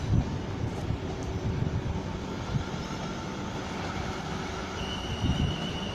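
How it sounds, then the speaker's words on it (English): A train rolls through Clapham Junction in London, a steady low rumble and hum that holds for several seconds with a few faint higher squeals, moderately distant and with no voices over it. "It's a train"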